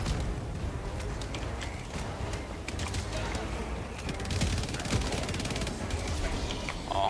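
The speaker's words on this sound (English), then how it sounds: "Cluster strike coming." Cluster strike explosions in Helldivers 2 form a dense, continuous crackle of rapid blasts and gunfire-like bursts, held at a steady loud level throughout, with voices faintly present in the battle mix.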